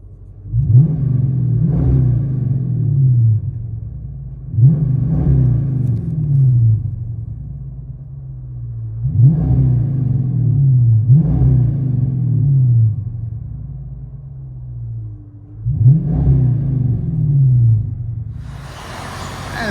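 A deep 5.7L Hemi V8 in a 2014 Dodge Charger R/T revs repeatedly through a MagnaFlow exhaust, each throaty rise and fall rumbling close by in a steady series of blips.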